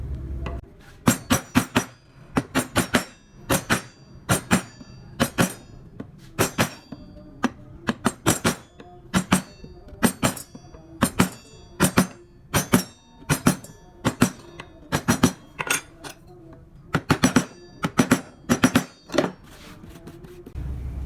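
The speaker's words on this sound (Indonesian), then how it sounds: "kita bersihkan bekas-bekas pahatannya ini. Kalian bisa menggunakan pahat penguku ataupun pahat kol yang sesuai dengan lengkungan ya." A wood carving chisel, such as a gouge or fluter, is struck repeatedly with a mallet while cleaning up carved marks on a traditional relief carving. The sharp, close knocks come in quick rhythmic bursts with short pauses between them, and no voices are heard.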